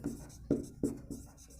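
A pen scratches across paper while a maths problem is worked out, several quick, crisp strokes in an uneven rhythm, close and fairly quiet.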